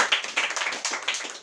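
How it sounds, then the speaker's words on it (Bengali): A small group claps in quick, uneven bursts, close and crisp, the individual hand slaps clearly separated in a short run with no talking over them. "হাততালি জোরে।"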